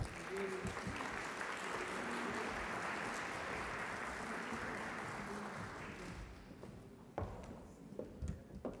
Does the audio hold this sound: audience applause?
yes